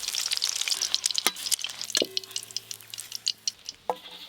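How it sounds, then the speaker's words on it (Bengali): Eggs frying in a pan for an egg curry, a crackling sizzle with sharp spits and pops scattered irregularly throughout, close and clear, with no voices. "ভালো করে ভেজে নিয়েছি, তুলে নেব এবার"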